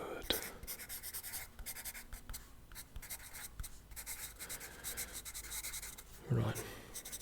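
A pen writes notes on paper at close range, with a soft continuous scratching and rubbing that runs steadily throughout, plus a few light taps and a brief bump near the end.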